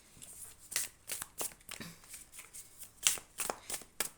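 Tarot cards are shuffled and drawn in a quiet indoor setting, making soft, crisp riffles and slaps in an irregular rhythm of about a dozen short bursts, close to the listener with no talk.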